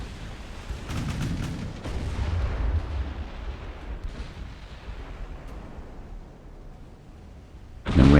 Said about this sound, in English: We want all 4 turrets engaged.